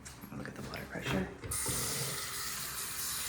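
A bathroom tap turned on and running with strong pressure, water splashing steadily into the sink after some quieter handling sounds at the start.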